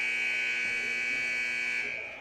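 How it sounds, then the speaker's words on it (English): A high school girls basketball game buzzer blares in a gym as one long, steady, harsh electronic tone that lasts the whole moment and then starts to fade. "Buzzer goes off."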